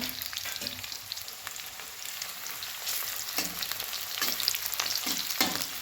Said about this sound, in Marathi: बारीक चिरलेला कांदा चांगला भाजायला लागला बघा